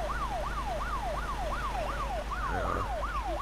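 A police siren from the ArmA3 video game, set on the Altis Life multiplayer server, wails in a steady rising-and-falling cycle throughout, loud and close over a low engine rumble, with a brief extra sound near the end.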